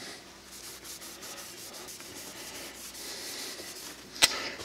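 Oil finish is rubbed by hand into porous, open-grain red oak for a pizza cutter handle before turning on a lathe, giving a soft, steady rubbing and swishing close by with one brief sharp knock near the end.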